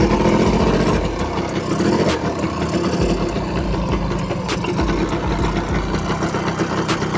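Yamaha V80 motorbike engine running in gear with a worn-out clutch lining, a loud close two-stroke buzz with rapid regular ticking and a few brief dips in revs, steady throughout with no voices.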